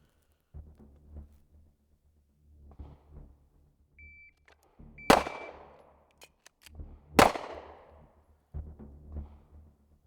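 Pistol shots from a Glock or 2011 fitted with an extended slide release, two sharp loud cracks several seconds apart amid quieter handling thumps and low rumbles.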